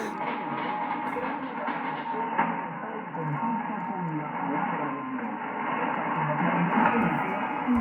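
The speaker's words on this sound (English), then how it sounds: "I can still hear the music from 185 a little in the background" A communications receiver plays steadily with a muffled, narrow-band sound, carrying faint station music and voices with a tinny broadcast quality.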